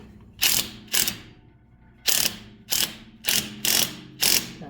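A hand ratchet tightens a bolt on a receiver hitch fitted to an International 2444 tractor, giving seven sharp, close metallic ratcheting bursts in uneven pairs and runs with short pauses between.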